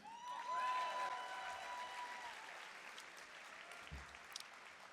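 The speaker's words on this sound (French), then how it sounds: "vous pouvez applaudir" Faint, distant audience applause at the Parti Québécois's third orientation congress. A brief ringing tone opens the clip, then soft clapping continues under a low background hum.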